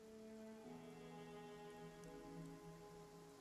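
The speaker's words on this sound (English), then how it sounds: "And it's starting to rain." Soft steady patter of rain in a Pathfinder: Kingmaker game scene, low and continuous beneath a faint tonal hum.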